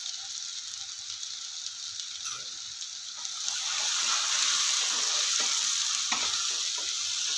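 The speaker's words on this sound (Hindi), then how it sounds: "अब इसे हम फ्राई कर लेंगे" Onion paste frying in a pan for sabudana khichdi, a close hissing sizzle that swells louder partway through as it is stirred, with occasional scraping clicks.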